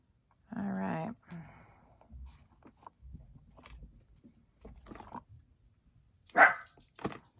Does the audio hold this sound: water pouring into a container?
no